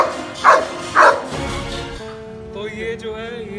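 A Doberman barks twice in quick succession, loud and close, followed by quieter whining and shuffling sounds.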